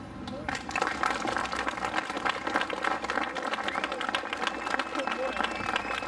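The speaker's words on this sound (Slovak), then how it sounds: "Ešte raz veľký potlesk pre Štefana Tomčíka" Audience applause follows a speech at a public rally in Lipany, Slovakia: dense, steady clapping from a sizeable outdoor crowd, sustained at an even level for several seconds with no break.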